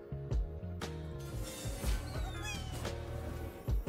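A cat meowing in Legends of Runeterra: a few short meows stand out over busy card-game music and effects, with thuds and clicks scattered between them.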